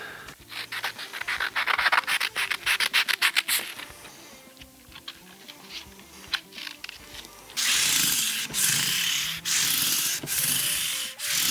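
Metal guitar frets being sanded with a finer-grade abrasive during a fret dressing job: rapid back-and-forth rubbing strokes, then a steadier, brighter stretch of sustained sanding passes, close and alone with no talking.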